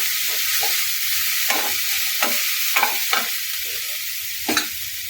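Vegetables for rava tiffin frying in a pan, a constant sizzle with several distinct scrapes of a spoon stirring through them, close and alone without talk.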